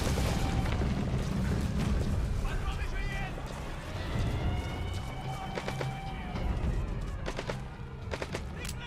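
Grenade explosion in the video game Metal Gear Solid V, a booming blast amid scattered gunfire, with a voice talking over the action.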